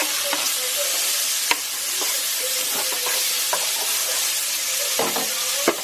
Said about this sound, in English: I'm going to add some butter to that. Just get that nice and melted.